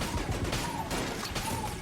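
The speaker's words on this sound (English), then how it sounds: "Ooh, big explosion. Explosion!" Loud explosion blasts in the dungeon-crawler game Enter the Gungeon, dense broadband booms and crackling gunfire bursts layered over steady game music, with a couple of sharp peaks near the start and middle.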